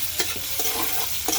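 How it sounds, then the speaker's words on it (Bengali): Shrimp stir-fry with onion and green chili in a pan, with a few quick scraping stirs over a steady sizzle, close by. "এখন আমি পেঁয়াজ আর কাঁচামরিচ দিয়ে দিচ্ছি, নাড়াচাড়া দিয়ে দিচ্ছি।"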